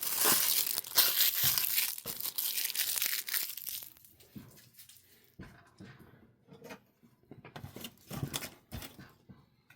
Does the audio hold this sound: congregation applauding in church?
no